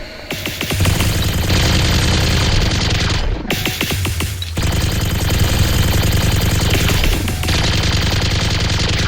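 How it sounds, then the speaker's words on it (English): Several guns fire continuously at thick ice in a dramatized scene, dense rapid bursts of gunshots blending into a loud barrage with a brief pause around the middle before shooting resumes. "Move your aim around clockwise towards these points and keep shooting until you run out of ammo"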